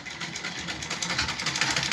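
Fast, steady whirring of a sewing machine stitching a facing onto a garment neckline, sustained and close with a slightly uneven rhythm, no talk.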